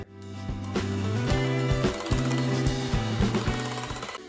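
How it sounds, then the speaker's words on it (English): An electric hand mixer beats cream cheese danish filling in a bowl, a loud, close, steady whirring motor with rapid rattling pulses of the beaters knocking against the bowl. "I want it creamier than this, so I'm going to get my mixer."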